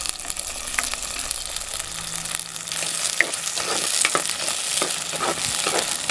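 Shallots, green chillies and garlic sauté in oil with a constant close crackling sizzle, with scattered spoon clinks and stirring scrapes over it.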